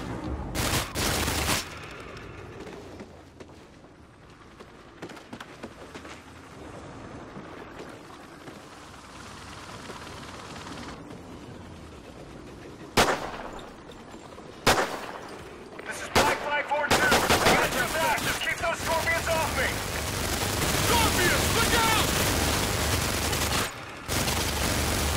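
A minigun turret firing in Call of Duty Ghosts Extinction, a long roaring stream of rapid fire building toward the end, interrupted by sharp loud blasts, with game noise throughout and a voice heard at times.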